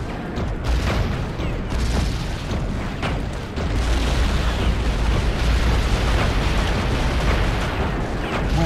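A weapons cache explodes in the Iron Man video game on PS3. Heavy, sustained booming blasts and rumbling detonations fill the whole stretch loudly, layered into a continuous roar without speech.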